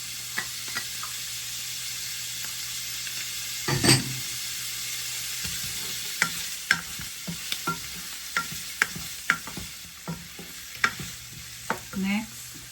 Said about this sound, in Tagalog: Gigisa ko muna yung meat